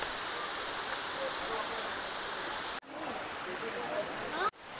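Mountain water falls and rushes in a steady, broadband roar near Mawlynnong on the Dawki to Shillong route, continuous and fairly loud, broken by two brief cuts.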